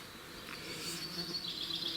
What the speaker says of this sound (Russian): Комарики.